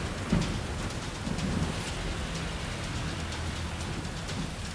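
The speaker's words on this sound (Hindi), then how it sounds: "लगातार हो रही मूसलाधार बारिश से सड़कें पानी में डूब गई हैं" Heavy monsoon rain pours steadily in Mumbai, a dense, continuous hiss of drops on hard surfaces with faint low rumbles underneath and no voices.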